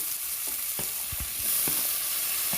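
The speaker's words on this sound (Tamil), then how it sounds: "கருவேப்பிலை போட்டுக்கலாம் அடுத்து தக்காளி போட்டுக்கிறேன்" Curry leaves and tomato fry in hot oil with dried chillies for sambar. A constant loud sizzle runs throughout, with a few light clicks from stirring and no voices.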